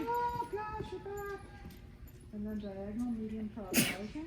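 A single sharp sneeze bursts out near the end during a horse riding clinic, following a woman's spoken instructions, with the arena's background faintly present.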